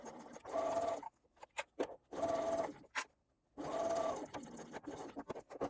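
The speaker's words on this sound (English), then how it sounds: "I'm just going to sew straight down here" A domestic sewing machine runs straight seams on a clutch bag in three sustained bursts with short pauses and brief stops between, the steady motor whir close and loud, with no talk over it.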